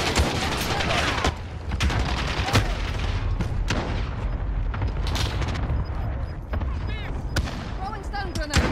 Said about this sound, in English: Allied cluster strike